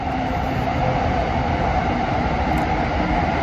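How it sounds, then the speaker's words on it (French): A train rumbles past nearby, a steady, loud roar of wheels and engine that stays constant throughout. "Et le train qui passe, donc double bruit."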